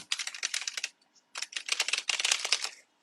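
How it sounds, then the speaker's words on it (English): Tarot cards being shuffled by hand, a run of crisp papery riffling bursts with a short pause in the middle, close and fairly quiet. "Kia, I'm shuffling up your cards."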